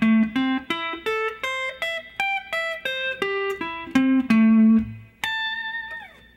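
Clean electric guitar picks a quick run of single notes climbing and falling in arpeggio shapes, ending on a sustained bent high note with vibrato.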